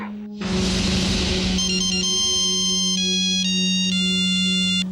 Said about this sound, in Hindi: आपका फोन सर।